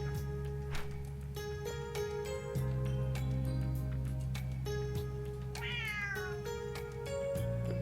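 A cat meows once in the visual novel Some Some Love Convenience Store, a short rising call over a quiet steady musical backdrop with soft chiming notes.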